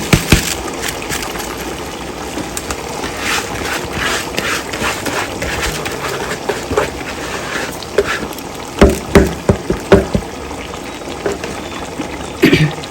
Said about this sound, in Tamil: இந்த அரிசி இப்போ குழம்புல ஊற்றலாம்